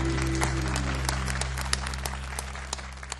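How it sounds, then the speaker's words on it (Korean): Congregation applause at a church youth worship service, a steady dense patter of clapping filling the room with a low hum beneath, continuous and fairly loud throughout. "박수 올립시다."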